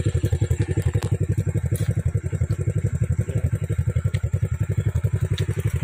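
A motorcycle engine idles steadily after starting, a close, even, rapid putter that keeps going throughout without any voices.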